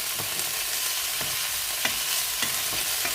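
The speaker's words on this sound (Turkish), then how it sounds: "köftelerimiz harika şekilde kızarmaya başladı" Meatballs sizzling and crackling steadily in a hot pan, with occasional scrapes and knocks of a utensil stirring them, up close.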